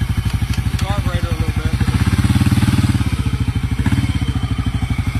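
A Yamaha Kodiak 400 ATV on 31-inch tires idles close by, a steady, rhythmic, thumping engine putter with a slight rise in revs midway, no talk over it.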